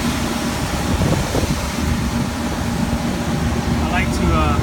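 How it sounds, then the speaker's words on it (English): A newly installed blower motor runs inside an old Carrier HVAC unit, giving a steady, loud broadband whoosh of moving air with a low hum. Brief squeaky chirps cut in near the end. "got the blower motor installed. It's already in position, working."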